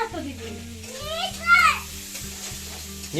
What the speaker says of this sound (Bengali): আর এদিকে চিংড়ি মাছের মাথাগুলোকেও দিয়ে দিব একসাথে ভেজে বাটা হবে